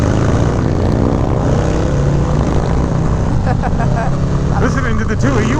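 A Harley-Davidson Heritage Classic Softail with a 131ci engine rumbles steadily and loud while being ridden, a low continuous drone with wind, and a voice speaks over it near the end.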